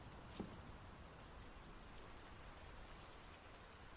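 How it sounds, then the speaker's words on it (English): Rain falling in the Draugen video game, a soft, even hiss of drops on surfaces that holds steady and quiet throughout, with one faint brief tap near the start and no voices. "The rain's picking up. It is raining."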